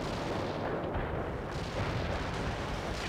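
Artillery strike in the World In Conflict video game, a dense continuous roar of heavy rumbling blasts and booming impacts layered over each other, loud and unbroken throughout.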